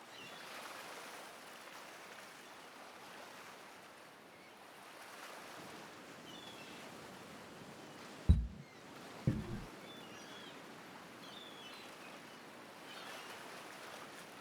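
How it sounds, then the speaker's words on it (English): Ocean waves wash ashore in the video game Hooked on You, a soft steady surf wash with light wind across the whole stretch, and two short louder splashes near the middle. "ankle deep in the crystal blue water of a newly arrived wave"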